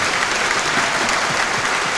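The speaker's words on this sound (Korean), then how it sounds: "여러분 격려의 박수 보내주시면 고맙겠습니다." A Korean traffic-accident-reduction rally audience claps steadily and continuously for two seconds, a dense, even wash of applause from a large crowd with no voices rising above it.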